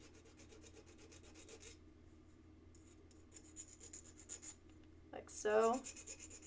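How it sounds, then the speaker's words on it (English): Short rasping strokes of a file smoothing down a small metal burr on a craft piece, quiet and close, followed by a brief louder scrape, with a voice speaking briefly. "you do want to file that down just a little bit."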